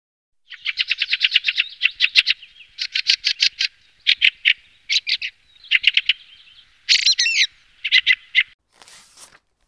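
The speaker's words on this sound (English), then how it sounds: "Blackbird whistling." A blackbird whistles in a run of bright, rapid chirping phrases broken by short pauses, with one sharper squawk near the end, close and clear with no voices.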